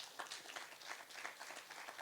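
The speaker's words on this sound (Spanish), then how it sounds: "Den un aplauso al Señor esta mañana." A church congregation claps together during a service, a dense, even wash of applause that sounds faint and somewhat distant and carries on steadily.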